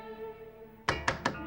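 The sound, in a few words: knocking on a door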